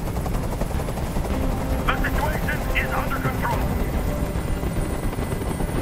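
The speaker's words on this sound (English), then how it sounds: "Tell that helicopter to get out of here!" A helicopter hovers in the video game Detroit: Become Human, its steady rotor drone filling the whole scene beneath loud, urgent shouted dialogue.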